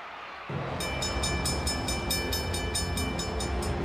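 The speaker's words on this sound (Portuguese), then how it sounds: "teve um desvio no trilho logo depois que o trem passou por ali" A train rolls along the tracks in a film scene, a loud, steady rumble with rhythmic metallic clacking that starts abruptly and continues without pause, no voices over it.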